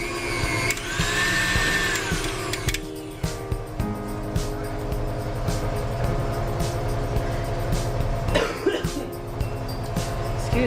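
A stand mixer churns focaccia dough of yeast mixture and all-purpose flour, its motor whirring loud and close in a steady drone for the whole stretch, with a brief rattling shift partway through.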